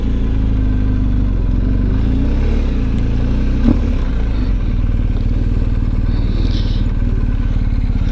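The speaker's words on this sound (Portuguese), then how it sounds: "Vou colocar a moto ali em cima e fazer uma foto." A BMW R1250 GS Adventure motorcycle idles steadily nearby beside an old stone church on a hot day, its low engine rumble continuous throughout with a brief clunk midway as the bike is moved.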